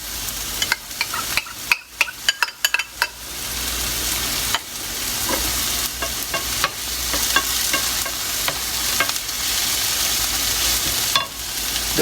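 Onion and tomato paste stirring and frying in a pan over medium-high heat, a steady close sizzle broken by repeated sharp scrapes and clacks of the spoon against the pan.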